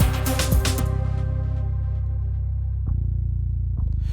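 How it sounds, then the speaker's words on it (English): Deep electric bass notes sustain low and steady after a bright plucked attack, with a couple of softer re-plucks later, no voices. "So I needed like a bass guitar in this, right? Like a real bass guitar."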